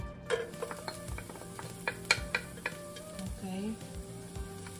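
Garlic sizzles in hot oil in a pan, a steady fry broken by sharp clicks and scrapes of a utensil stirring. A voice briefly speaks over it.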